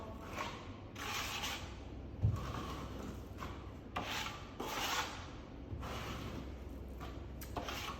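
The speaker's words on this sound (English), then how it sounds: "corner of your trowel just under that, pull across, clean your trowel, flatten down" Steel trowel spreading a first coat of British Gypsum plaster across a wall, giving soft repeated rasping scrapes in steady strokes, close by and moderately quiet with no talk.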